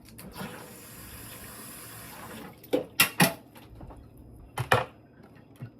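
Elderberries being washed under a running kitchen tap, a soft steady stream of water with several sharp clatters and splashes as the berries are handled.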